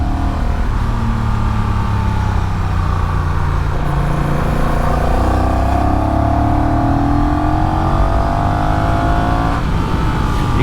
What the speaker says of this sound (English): I think we've got a good engine note from that motor.